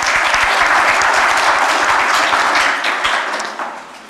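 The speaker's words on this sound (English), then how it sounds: "So, applause." A seminar audience at an energy security event claps loudly and steadily for a few seconds before the applause tapers off near the end.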